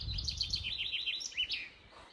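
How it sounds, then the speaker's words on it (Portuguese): A small bird chirps near a castle in Scotland with a rapid series of high, bright tweets and a brief trill, fairly close, over a low outdoor rumble and no talking. "Tá aqui do lado o passarinho."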